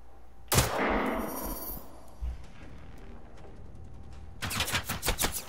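Robot gunfire in the video game Generation Zero: a loud gunshot blast with a long rumbling tail, then a rapid burst of repeated shots near the end.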